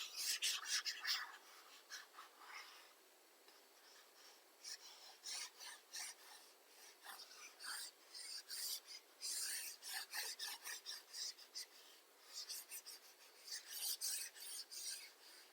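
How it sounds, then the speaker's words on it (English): Repeated rasping rubs of an eraser scrubbing pencil writing off a paper page, in irregular bursts of short strokes, close and fairly quiet, with no talking. "So let me erase everything here."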